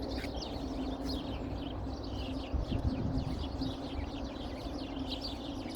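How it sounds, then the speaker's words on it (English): Birds sing in the morning outdoors, with repeated chirps and trills at moderate distance over a steady low background rumble, and no talk. "Let the birds sing praises unto your holy name."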